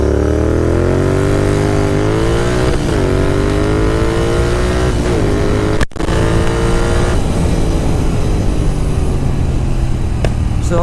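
A Royal Enfield GT 650 and a KTM Duke 390 accelerate hard side by side in a loud, close, sustained engine roar, with pitch climbing through the gears and a brief dip midway at a gear shift.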